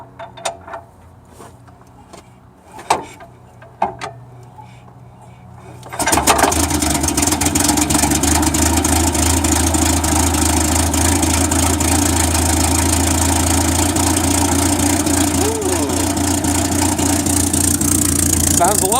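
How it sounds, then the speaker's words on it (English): A 1961 Land Rover Series II engine with a faulty spark plug cranks through a few short clicks and turns. It then catches and settles into a loud, steady idle close by. "turn on the ignition, give her a crank."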